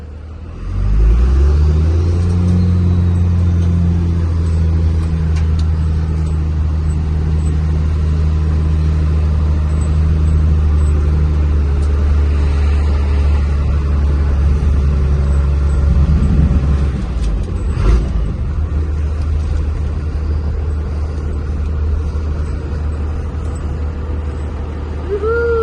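An abandoned Dodge crew cab pickup truck drives along with a loud, steady low engine drone and rumble, rising in pitch as it accelerates, with a few knocks and rattles midway.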